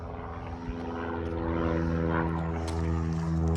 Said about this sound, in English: Plane.